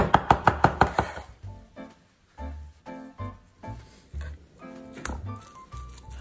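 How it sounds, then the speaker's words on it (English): A knife chops rolled parsley and basil leaves on a board: a quick run of six sharp close knocks, then slower scattered cuts and low thumps, with no talking. "I want to make sure everything here is chopped up really nice and finely"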